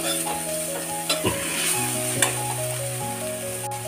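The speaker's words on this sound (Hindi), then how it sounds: "गाजर, प्याज और शिमला मिर्च के फ्राई हो जाने के बाद गाजर को हल्का फ्राई कर लेंगे" Carrots, onion and capsicum stir-frying in a pan, a dense close sizzle broken by a few scraping stirs of a spatula, over a steady background hum.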